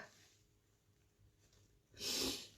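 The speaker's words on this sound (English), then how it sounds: "Sniffles tonight. It's really annoying." A sharp, breathy sniff near the end, close and fairly loud, after a quiet stretch of faint rustling.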